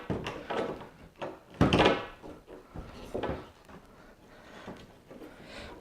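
Plastic door panel trim on a 2015+ Ford Mustang being wiggled free, giving a run of close, uneven knocks, creaks and clicks with one louder pop partway through.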